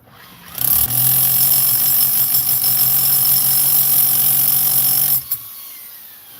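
A loud, continuous mechanical hammering rattle of a corded jackhammer breaking starts abruptly, drones steadily for several seconds, then cuts off sharply with a brief final burst.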